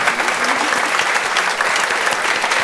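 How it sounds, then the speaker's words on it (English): An audience at a climate and health panel event applauds the panelists, a dense, continuous wash of clapping that fills the room at full strength from start to finish. "Can we please give a massive round of applause to our amazing panelists?"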